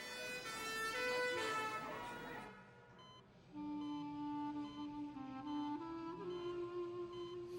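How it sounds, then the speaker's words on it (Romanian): An ambulance siren wails loudly in the foreground, a steady tonal whine that dips and returns midway, with people talking over it. "Hai că vine ambulanța!"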